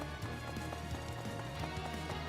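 Horse hooves clip-clop in a steady running rhythm in the video game Fire Emblem Three Hopes, set against a dense game soundtrack and ambience at moderate level.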